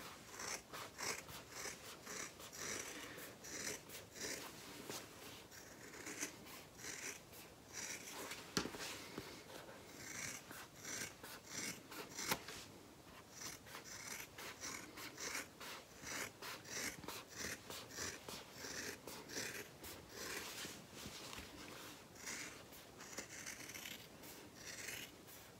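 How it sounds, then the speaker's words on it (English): Scissors trimming the fabric seam allowance of a bucket bag, a quiet close run of rapid snips and rasping cloth rubs, continuous and fairly even throughout. "now I'm just going to trim away a little bit of the seam allowance before I turn my bag right side out"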